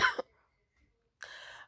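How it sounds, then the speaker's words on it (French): Two short, harsh coughs come from a sick person in a quiet room, separated by about a second of silence, close and moderately loud. "il y aura beaucoup de toussage, même du reniflage"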